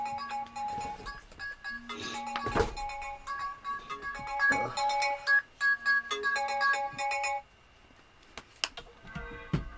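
Mobile phone ringtone playing a repeating melodic pattern of bright electronic tones in short phrases, fairly close, with a few clicks and taps around it before it stops.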